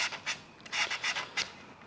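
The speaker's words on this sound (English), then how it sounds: "Hopefully this audio is not too bad with the old sandpaper running back and forward" Sandpaper scrubs back and forth on a hydrofoil board in a series of short, close rasping strokes that come in irregular bursts, each one fading quickly, with no talking over them.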